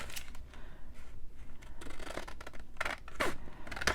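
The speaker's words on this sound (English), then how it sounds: "I kind of cut them to size first" Scissors snip through junk mail paper, trimming it to size in several quick bursts of cutting close by, with rustling between strokes and no talking.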